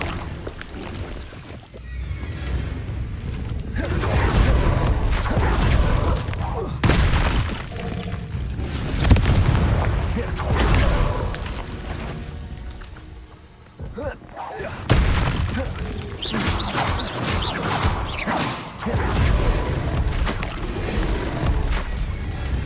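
Repeated Confringo spell blasts explode in the Hogwarts Legacy video game, heavy booming bursts and thuds crowding one after another across the whole stretch, loud and near, with voices breaking in at times.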